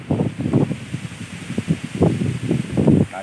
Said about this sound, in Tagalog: Napakalakas po ng ano. Ng hangin dito.